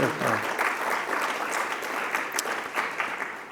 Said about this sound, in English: So let's give them also a round of applause